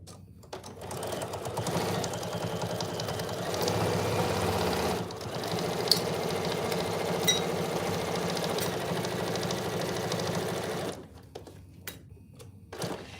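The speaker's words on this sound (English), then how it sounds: "let's sew these together" A sewing machine stitches oven mitts together in a steady, rapid mechanical whir, running continuously for about ten seconds at close range before stopping into near quiet.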